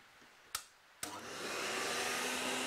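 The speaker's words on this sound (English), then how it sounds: "So that's the vacuum running normally" A vacuum cleaner motor used for a DIY CNC vacuum table switches on after two sharp clicks, spooling up into a steady, high whine that runs on smoothly and evenly.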